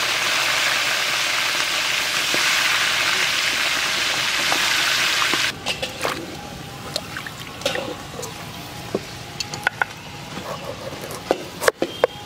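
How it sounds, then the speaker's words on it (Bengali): Fish heads frying in hot oil in a village kitchen, first a loud steady hiss and sizzle, then a quieter spatter with scattered pops and crackles, no talking. "এখন আমার মাছের মাথা ভাজবো, তেল গরম হয়ে গেছে, মাছের মাথা ভাজি দিলি।"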